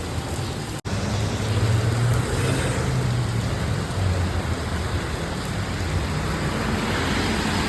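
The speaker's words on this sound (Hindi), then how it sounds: "इतनी तेज़ बारिश हो रही है" Heavy rain pours down steadily in Phuket, a dense, loud, continuous hiss with a low rumble of road traffic beneath it.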